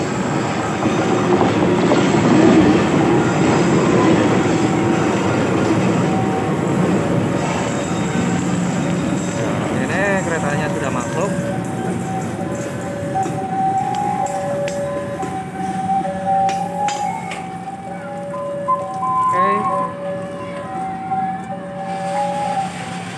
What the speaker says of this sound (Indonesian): Nah, ini keretanya nih.